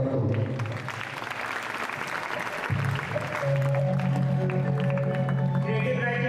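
Audience applause at a school annual day function fills the space in a steady wash of clapping from a crowd, continuous throughout with some voices mixed in.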